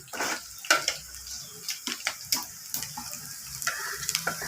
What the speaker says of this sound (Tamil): அதை நம்ம எண்ணெயில் போட்டுக்கலாம்.